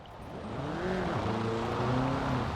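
A Volkswagen Beetle in the racing game Forza Horizon 5 hums along with a wavering engine note that climbs, dips at a gear change and rises again, moderately loud with no voices.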